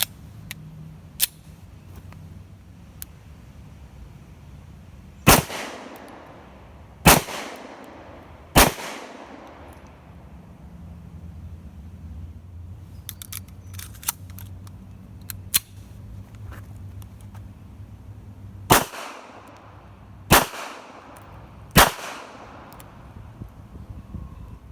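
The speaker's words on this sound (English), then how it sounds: "This is shooting the Tokarev." Tokarev pistol fired outdoors, with six loud sharp shots spaced a couple of seconds apart, each followed by a brief echo, plus a few fainter distant pops between them.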